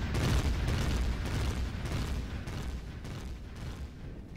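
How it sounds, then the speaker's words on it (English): Enemy gunfire in a sci-fi survival game, coming as a run of dull, booming shots and rumbling impacts that sound moderately close with no speech over them. "I know you're shooting at me. I don't like you shooting at me. Stop shooting at me."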